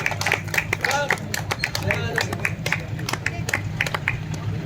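An audience at a village panchayat committee meeting in Ramgarh applauds with steady, fairly close hand clapping that continues throughout, with a few voices murmuring underneath.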